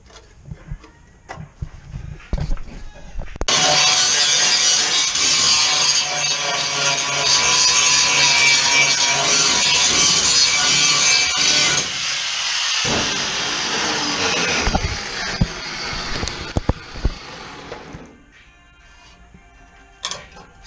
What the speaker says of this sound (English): normally you just expose the spot weld with the grinder and then grind out just the spot weld